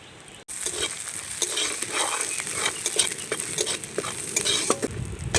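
Whole garam masala sizzling in hot oil for prawn malai curry, a crackling sizzle that starts suddenly, overlaid with frequent spatula stirring scrapes and taps against the pan.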